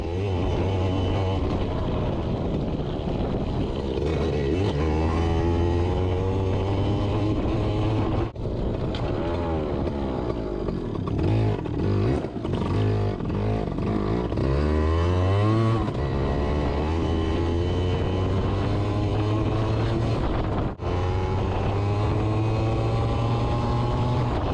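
Yamaha PW80 two-stroke dirt bike ridden in the rain, its engine droning steadily with rising and falling revs through throttle blips, continuous and fairly loud with wet background noise.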